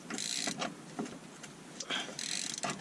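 Metallic ratcheting and clicking of an Allen key and wrench working loose a rear trailing arm bolt on a Jaguar X-type, in short bursts of effort with brief pauses between, close and moderately loud.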